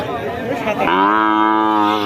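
A seven-to-eight-month-old calf gives one long, loud moo up close at a cattle market, starting rough and settling into a steady drawn-out call.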